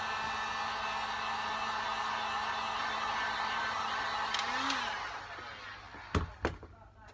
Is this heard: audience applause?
no